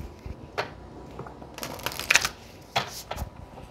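Tarot cards are shuffled and drawn in a string of quick papery riffles and slaps, close and fairly quiet, with a denser flurry in the middle and a final snap.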